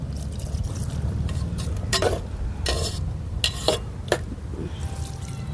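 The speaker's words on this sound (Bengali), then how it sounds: "আলু মশলা সব একসঙ্গে কষিয়ে নিয়েছি" Steady sizzling of potatoes and spices frying in a pan, with scraping stirring strokes and a few louder clatters of a spoon against the pot.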